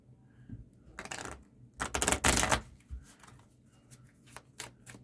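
Playing cards riffle and flutter in a few quick bursts, the longest in the middle, with soft taps and snaps between them.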